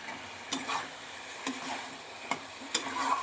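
Gobindobhog rice stirred in an oily pan for muri ghonto, giving a steady scraping and rustling over a soft sizzle, with a few sharper knocks of the spoon against the pan spaced about a second apart.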